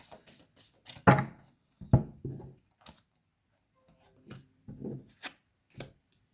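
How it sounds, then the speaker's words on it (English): Tarot card decks being shuffled and handled: a run of soft, papery brushing bursts and taps in irregular clusters, close and fairly quiet, with short pauses between them and no talking. "I'll shuffle the other decks as we go"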